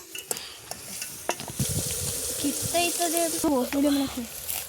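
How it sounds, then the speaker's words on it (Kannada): Onions frying in a pan, with a sizzling hiss and scattered scrapes and knocks of stirring, while voices, some high and child-like, talk in the background during the latter half. "ಈರುಳ್ಳಿ ಸ್ವಲ್ಪ ಚೆನ್ನಾಗಿ ಫ್ರೈ ಆಯಿತು"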